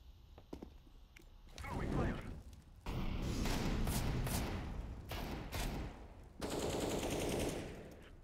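Gunfire in the game CS:GO, loud bursts of rapid automatic fire that start and stop in several long stretches, with short single shots before them, close and dominating the mix.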